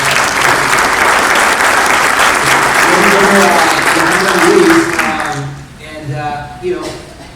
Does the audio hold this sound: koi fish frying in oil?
no